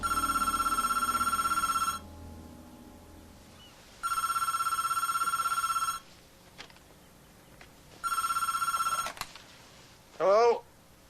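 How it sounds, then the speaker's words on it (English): A telephone bell rings in three evenly spaced bursts of about two seconds each, clear and fairly close, with quiet pauses between and a short thump at the end. "I sleep a lot better when the phone doesn't ring at 6 a.m."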